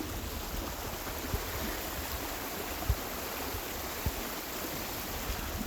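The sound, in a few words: stream of rainwater rushing, with waterfall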